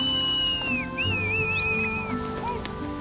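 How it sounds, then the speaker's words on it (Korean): Mongolian nomad herders whistle to steer their yaks and livestock through snowy mountains: several long, sliding whistles rise and fall over quiet background rumble, loud and close. "가축의 대열이 흐트러지자 사람들은 연신 휘파람을 붑니다"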